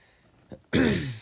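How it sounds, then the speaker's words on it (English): A single harsh throat clearing, close and loud, following a short breathy lead-in. "Sorry, I gotta clear my throat."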